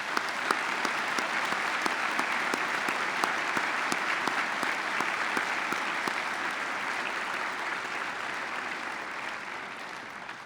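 Sustained applause from a seated audience at a commencement ceremony, honoring scholarship donors and student recipients, steady and fairly distant, with many hands clapping evenly for about ten seconds before easing slightly.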